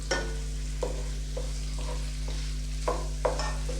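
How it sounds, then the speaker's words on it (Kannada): Rice is stir-fried with turmeric in a pan for Andhra-style chutney powder chitranna, with a steady sizzle under a low hum and a few scraping stirs of the spoon. "ಈಗ ರೈಸ್ ಹಾಕೊಂಬಿಡೋಣ ನೋಡಿ ಇಷ್ಟು ಫ್ರೈ ಆದರೆ ಸಾಕು ಆಗಿದೆ ನೋಡಿ"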